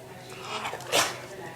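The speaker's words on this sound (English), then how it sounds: "Sneeze." A dog gives a short, sharp sneeze at close range, a quick burst in the middle of a quiet moment with faint background noise.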